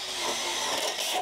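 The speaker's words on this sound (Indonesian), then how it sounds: "gunakan impact driver ya" An impact driver whirs briefly and loudly, a single continuous high-speed burst as a steel roofing screw is backed out of light-gauge steel framing.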